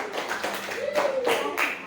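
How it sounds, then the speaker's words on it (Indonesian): A class of students claps hands in a classroom, a short burst of scattered, overlapping claps at close range, with brief voices mixed in. "silakan tepuk tangan dulu"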